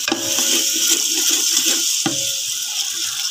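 An almond, walnut and milk sweet cooks in desi ghee, giving a steady close sizzle with scraping stir strokes against the pan throughout.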